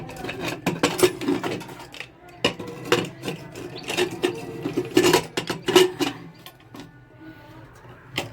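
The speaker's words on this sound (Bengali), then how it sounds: "প্রেশার কুকারটাকে ঢাকনা দেবো" A metal lid is fitted onto a pressure cooker holding potatoes, mutton and a little water, giving a run of close, sharp clanks and scrapes of metal on metal, irregular and fairly loud, with no talk.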